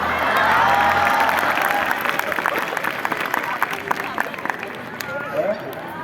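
Children at a school event clap and cheer in a dense, steady burst of applause with high shouts mixed in, loud and close, gradually thinning toward the end.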